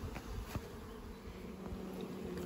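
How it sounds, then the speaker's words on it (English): Honey bees from a small nuc hive being moved into a ten-frame deep box, a steady dense buzzing swarm close by, faint and continuous without speech. "It's going to be lots of bee traffic and bees wondering what's going on at the front."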